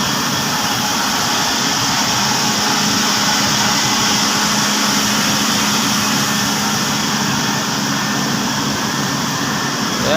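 Cooling tower motors at a large building run as a loud, steady mechanical roar with a whirring hum, unbroken and close throughout.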